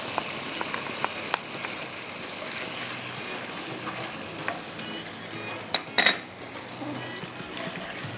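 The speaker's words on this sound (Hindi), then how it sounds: "इसी के अंदर हम डाल देंगे ये अदरक लहसुन" Ginger garlic paste fries in butter with garam masala in a pan, giving a steady soft sizzle with occasional stirring clinks and a louder scrape of the utensil near the end.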